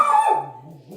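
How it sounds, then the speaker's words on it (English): Dogs in a house bark excitedly, a loud close yelp sliding into lower barks and whimpers, one short burst that fades. "Dogs are going crazy."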